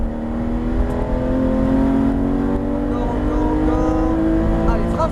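A Porsche GT3 RS accelerates hard on a race track, its engine note climbing steadily in pitch through a gear, loud and close as if from inside the car, with a French-speaking driving coach talking over it.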